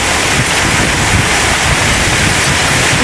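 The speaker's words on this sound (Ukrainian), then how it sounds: "Град. Був такий град." Hail and a heavy downpour fall outdoors over a vegetable garden, making a dense, unbroken roar that stays loud and close throughout, with no talking.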